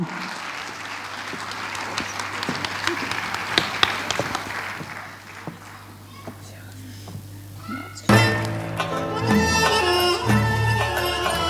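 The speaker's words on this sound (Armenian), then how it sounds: "Ծափահարությունները" A crowd applauds after an Uzundara dance performance at a Christmas church service, a dense run of clapping that fades before music with a voice enters.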